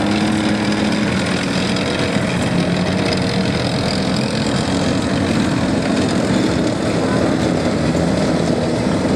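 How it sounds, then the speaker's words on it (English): An M548 tracked supply vehicle's engine runs at a steady, loud, continuous drone with a rough low rumble that holds unchanged throughout, no pauses or revving. "This vehicle is what they call an M548, model 548 supply vehicle."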